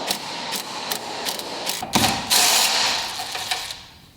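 Hand ratchet loosening 7/16 bolts on the cowl of a Ford Bronco during dash and cowl disassembly, a series of quick close clicking bursts with a metallic scrape, no talking.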